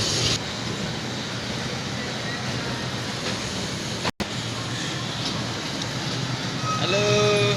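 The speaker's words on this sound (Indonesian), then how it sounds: "Tut keretanya datang." Toy train ride rolling in at a shopping mall, a steady rumbling run with a brief dropout midway and a rising horn-like tone near the end, amid busy indoor background noise.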